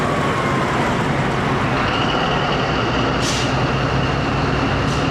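ZCU-20 diesel locomotive number 6403 hauling the 14DN Awam Express between Rawalpindi and Lahore, giving a steady, loud, continuous rumble and roar with a brief higher hiss near the end. No one speaks.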